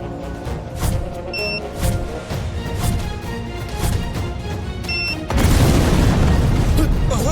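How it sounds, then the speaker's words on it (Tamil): A house blowing apart in a dramatic scene: a sustained roar of blast and debris, with a sudden louder, denser surge near the end, over a musical score with little or no talk. "என் வீடு வெடிச்சு இப்படி நில கொல்லஞ்சு போச்சே"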